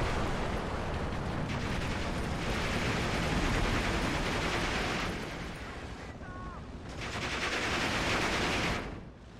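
Aircraft strafing runs in the WWII strategy game Steel Division 2 produce dense, continuous gunfire and rumbling battle noise, loud and sustained, dipping briefly before surging again.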